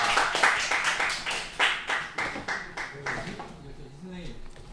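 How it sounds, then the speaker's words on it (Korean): Attendees at a teacher training session on VR clap for the instructor, a short run of loud, rhythmic handclaps that fades out as voices begin to talk. "정말 알찬 연수해 주신 이길봉사에게 박수 한번"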